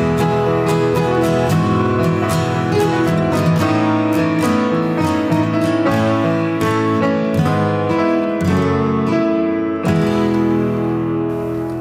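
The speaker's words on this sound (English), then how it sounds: "we're matching the grand piano part that sounds like this" A grand piano part is played alone: loud, close struck notes and chords in a steady rhythm that ring continuously throughout.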